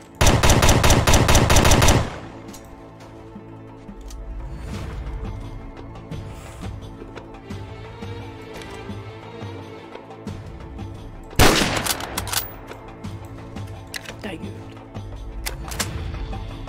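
Gunfire rings out in the Roblox war game Military War Tycoon. A dense burst of rapid automatic shots opens the clip, scattered shots and game noise follow, and a second sharp burst comes near the end. A player's voice is faintly heard.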